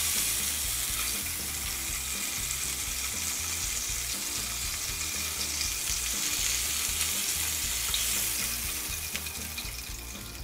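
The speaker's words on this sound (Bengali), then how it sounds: "মাছগুলো কিন্তু বেশি ফ্রাই বা কড়কড়া করে ভাজবো না, শুধু হালকা করে ভেজে নেব" Snakehead fish pieces lightly fried in oil for a Bengali fish curry, giving a steady, dense sizzle that stays close and even throughout with no voices.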